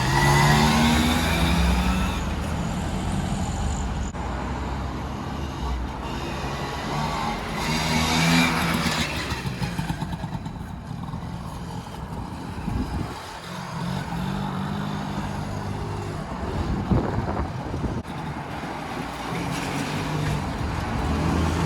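A small Honda Motocompo folding scooter hums and buzzes along on tiny 8-inch tires, its little engine revving up and easing off over a sustained ride, recorded close with wind and road rumble.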